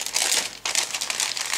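Close, steady crinkling of a plastic bag holding the sprues of an ICM 1:32 I-16 Type 24 model kit, with a brief dip in the rustling midway.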